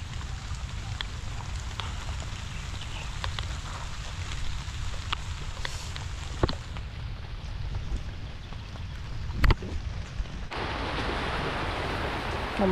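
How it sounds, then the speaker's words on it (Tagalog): Heavy rain pours onto an okra and bitter gourd garden, a loud, constant hiss with a few sharp knocks and drips, the downpour growing heavier toward the end. "Lumalakas yung ulan,"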